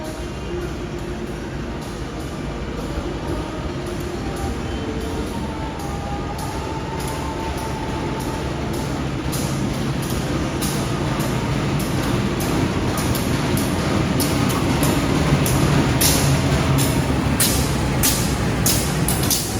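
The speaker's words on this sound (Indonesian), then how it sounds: "Baru saja tiba kereta Bogowonto dari Lempuyangan" A Bogowonto passenger train from Lempuyangan rumbles steadily into a station, growing slightly louder, with a constant high metallic hiss and rhythmic clatter from the wheels throughout.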